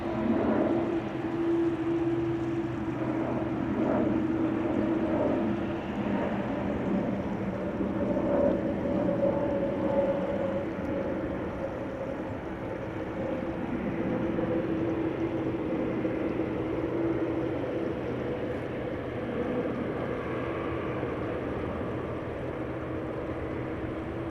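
Delta Airbus A330-300 jet departing the Polderbaan runway at Amsterdam Schiphol, a steady broad engine roar with tonal whine, heard from a distance and holding constant throughout, no voices.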